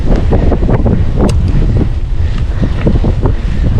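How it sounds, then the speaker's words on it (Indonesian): A strong headwind blows while cycling in Frankfurt, Germany, a loud continuous rumbling buffet of wind against the microphone with gusty surges throughout. "Kalau ini kita sekarang lagi melawan angin, jadi kita mendapatkan headwind, angin dari depan."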